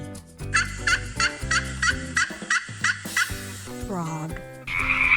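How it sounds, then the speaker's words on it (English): A turkey gobbles in a rapid series of loud, rattling calls, close and alone over a musical backing, with a frog-like croak near the end. "turkey,"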